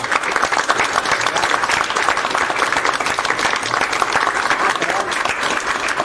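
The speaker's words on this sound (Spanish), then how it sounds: "Un aplauso." An audience at an architecture academy talk breaks into sustained, even applause, dense clapping that holds steady from start to finish.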